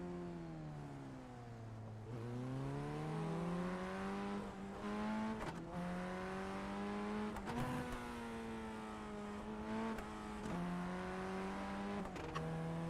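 The engine of a Formula Ford FF 1600 race car in the iRacing sim rises and falls in pitch through repeated revs and gear changes, with blips between shifts, a steady close-up drone with no talking.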